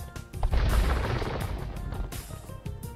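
Artillery fire in the Age of Empires 2 HD Edition strategy game, a dense burst of booming shots and crashing impacts layered over each other, loud and close.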